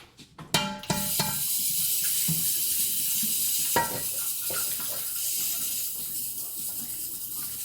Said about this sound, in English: fill this back up with water